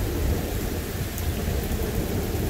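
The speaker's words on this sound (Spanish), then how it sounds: "Escucha esos truenos tan preciosos." Thunder rumbles through a thunderstorm in Iowa, a continuous deep roll with steady rain hissing alongside for the whole stretch, fairly loud and close.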